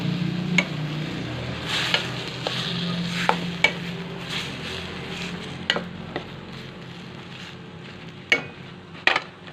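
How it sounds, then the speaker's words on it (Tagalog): Softened mung beans for ginisang monggo sauté in a pan, a steady low sizzle running throughout while a utensil scrapes and clinks against the cookware in irregular sharp taps, close and fairly quiet. "Yan, igisa muna natin dito."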